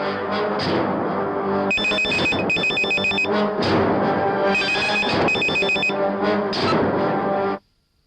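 A telephone rings with an incoming call in a Telugu horror thriller film scene: repeated bursts of loud electronic ringing, close and steady, alone with no voices, cutting off abruptly near the end.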